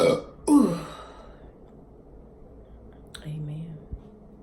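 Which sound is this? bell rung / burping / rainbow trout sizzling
burping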